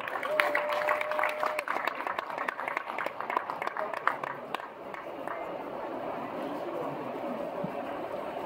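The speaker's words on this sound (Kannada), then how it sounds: "ರಮೇಶ್ ಸರ್ಗೆ ಬರ್ಲಿ ಜೋರಾದ ಚಪ್ಪಾಳೆ" Loud applause from an audience at a Kannada stage event as a guest is invited up, dense clapping and crowd noise filling the whole stretch with steady intensity.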